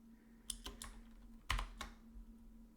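Soft typing on a computer keyboard, a handful of separate keystrokes with a firmer tap in the middle, quiet and close over a faint steady hum, no voices.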